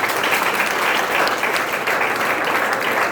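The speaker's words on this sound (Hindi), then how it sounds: "जोरदार ताली।" A crowd at a sales seminar claps loudly and steadily, dense continuous applause filling the whole stretch without a break.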